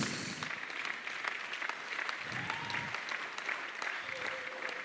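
A church congregation at a deliverance service applauds with steady, dense clapping that stays even throughout. It is heard at moderate distance, and a few faint voices or tones rise from underneath.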